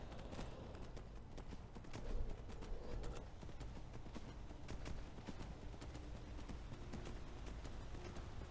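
Horse hooves clip-clop in the video game Skyrim, a steady rhythmic trotting pattern under a busy, noisy game soundscape, moderately loud and continuous.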